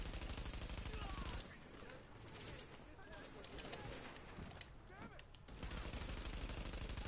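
Sustained automatic gunfire rattles in rapid bursts during a firefight in The Division. It is loudest at the start and end, with a quieter stretch in between, and some indistinct voice is mixed underneath.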